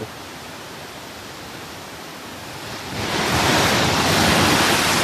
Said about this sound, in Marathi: स्पीड बघा पाण्याचं, तुम्हाला समजत नसेल की पाण्याची स्पीड किती येते